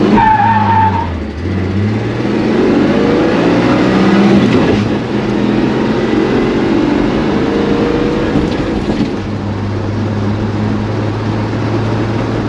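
A turbocharged six-cylinder car accelerates hard on a 0-60 run, its engine roaring loud and close with a dip at a gear change, then climbing again and holding a strained drone.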